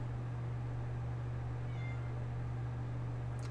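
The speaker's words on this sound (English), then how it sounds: "She is meowing at the door." A cat meows briefly and faintly at a door, partly buried under a loud, steady electrical hum.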